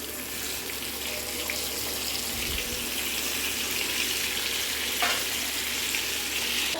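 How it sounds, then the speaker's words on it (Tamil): Chicken tikka pieces fry in hot oil in a pan, giving a continuous close hiss and crackle for several seconds with a soft knock midway and no talking. "சட்டி அடுப்பில் வச்சு இப்போ எண்ணெய்க்குள்ளே போடுற பாருங்க"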